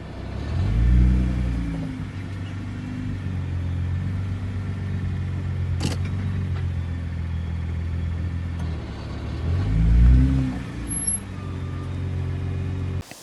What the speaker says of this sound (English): a GT-R that I did see and it was making excessive noise from the clutch